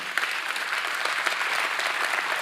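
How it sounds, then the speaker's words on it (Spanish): Audience applause for the Lord during a Spanish-language church sermon, a steady dense wash of many hands clapping throughout, fairly loud and without talk. "da un fuerte aplauso al Señor"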